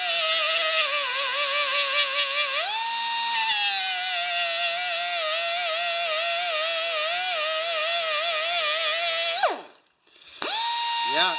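Power sander working with a yellow coarse-grit abrasive disc, a loud continuous high-pitched whine with shifting pitch that briefly cuts out and spins back up near the end; no talking.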